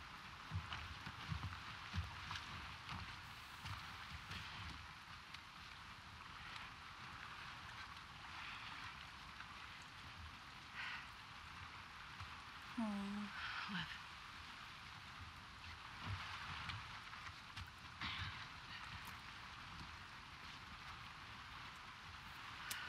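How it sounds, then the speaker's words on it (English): Rain falls steadily in The Last of Us Part 2 as a broad, soft, continuous hiss lasting throughout, with faint low rumbles and occasional quiet voices underneath. "Let's get out of the rain."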